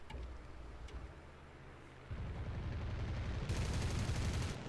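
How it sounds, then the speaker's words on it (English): Aircraft gunfire in a simulator battle flight game, faint and distant over engine drone, first light rattling and then a denser, louder stretch of rapid fire. "Pectopa firing on what looks to be a Mobius."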